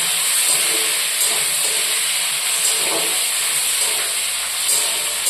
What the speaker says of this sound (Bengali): এবার টমেটোগুলো একটু ভাজা হবে